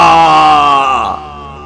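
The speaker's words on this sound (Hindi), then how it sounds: "मोहन के मुंह से एक जोरदार चीख निकली" A cartoon man lets out one loud, long, sustained scream as he is dragged into a cave, and the cry fades out at the end.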